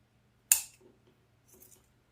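One crisp snip of scissors cutting fur for an Easter bunny deco mesh wreath, a sharp close click followed later by a few faint rustles of handling in a quiet room.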